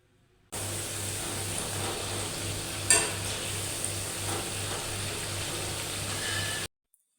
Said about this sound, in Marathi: दोन्ही साईडनी छान असा हलका सोनेरी रंग येईपर्यंत आपल्याला हे भजे तळून घ्यायचे आहे